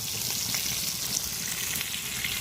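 A rib eye steak fries in a hot pan with garlic, giving a steady, dense sizzle that stays loud and even throughout with no talking.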